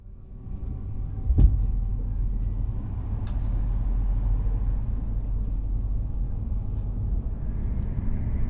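Italian New Pendolino high-speed train accelerating on a high-speed line, heard from inside as a steady loud low rumble with one brief sharp knock near the start.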